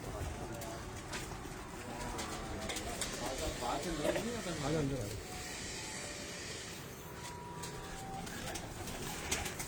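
Breeder pigeons coo on a rooftop loft, soft rolling calls rising clearly around the middle over constant background noise and nearby voices.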